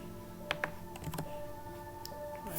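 Fingers tap at a computer keyboard, a few faint, sparse keystroke clicks over a quiet background hum, close up.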